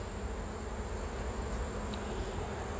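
Steady, dense buzzing of many honey bees swarming around an opened hive during honey pulling, a continuous hum that fills the space without pause.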